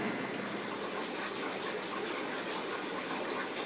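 Water is drawn off through a tube from an iced tea jar used to hatch brine shrimp, making a continuous close gushing, rushing flow. It stays steady and unbroken, with no voices.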